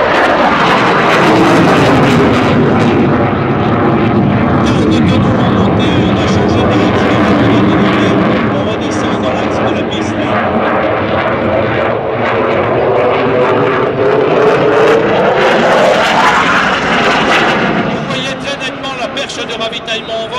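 A Dassault Rafale fighter jet roars through a roll and a loop at an air show in Tours. The loud engine noise rises and falls in pitch as the aircraft passes, with an announcer speaking over it.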